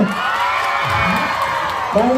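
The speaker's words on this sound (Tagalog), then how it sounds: "magpalakpakan na may kasamang hiyawan ng mga nasa kanan" A festival crowd claps, cheers and whoops loudly and close at hand, a sustained roar of voices and shouts with an emcee's voice briefly mixed in.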